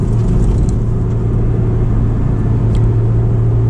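A Honda S2000 convertible with a manual transmission drives in winter, its engine a steady loud rumble with a low hum and road noise beneath, constant throughout and no voices.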